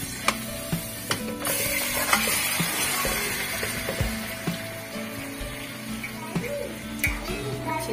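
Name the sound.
marinated chicken drumsticks frying and stirred in a kadhai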